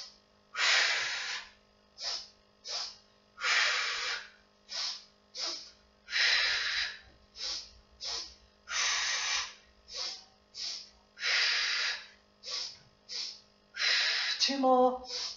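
Deep Pilates breathing in a steady two-in, one-out pattern: paired short sniffing inhales followed by a longer, heavier exhale, repeated about five times up close, with a voice briefly at the very end.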